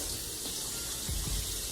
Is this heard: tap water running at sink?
yes